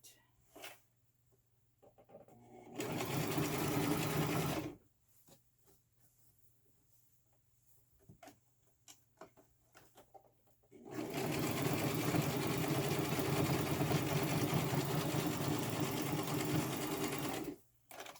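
A sewing machine stitches a frontal wig, two steady motor-driven runs of rapid needle chatter, the second much longer, close and clear with quiet handling noises in the pause between.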